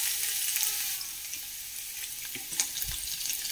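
Vegetables sizzle in hot oil for veg noodles, a continuous close crackle and hiss that dips slightly midway, with a few soft stirring knocks near the end.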